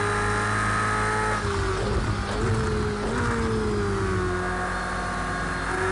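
A massive V8 race car engine in Project Cars 2 drones loudly and steadily, its pitch sliding through gear changes and revving under acceleration, close and continuous from start to finish.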